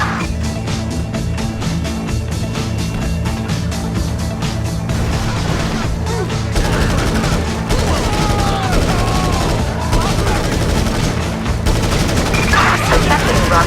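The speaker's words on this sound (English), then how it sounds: "Gunfire reported." Gunfire in the online mode of the video game GTA V, with dense bursts of shots and booms running steadily under game radio chatter and background noise throughout.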